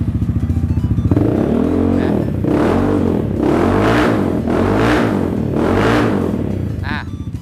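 A 2022 Yamaha Xmax SP scooter with traction control off revs hard in repeated surges, its engine climbing and falling close by in several loud pulses, with someone speaking over it.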